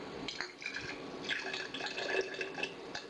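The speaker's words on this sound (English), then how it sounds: "and of course I pour that up to the line." Apple cider vinegar is poured into a container for Italian vinaigrette dressing, a soft, close trickling and gurgling of liquid that runs steadily and quietly the whole time.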